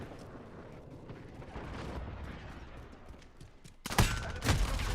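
Enemy sentry gun in a video game opens fire abruptly after a stretch of rumbling game noise, a loud burst of rapid gunfire shots near the end.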